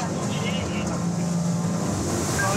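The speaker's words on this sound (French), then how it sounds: "Le pilote pousse les gaz jusqu'à 60 km/h pour rattraper l'embarcation." Gendarmerie patrol boat engine running at high throttle as it speeds up to about 60 km/h, a loud steady drone with wind and water rush throughout.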